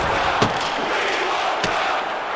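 A large arena crowd at an international ice hockey game between Canada and Sweden roars steadily, a loud, continuous wash of cheering with a couple of sharper bursts rising above it.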